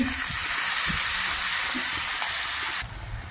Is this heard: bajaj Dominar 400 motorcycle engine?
no